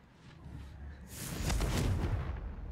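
Confringo fire spell in the video game Hogwarts Legacy: a soft whooshing build gives way to a bright, crackling fiery blast that swells and rumbles for about a second before easing off, with no voices.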